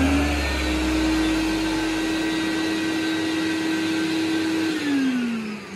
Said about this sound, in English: And the extractor runs for about 5 to 6 seconds after the tool stops to clear the dust out of the hose.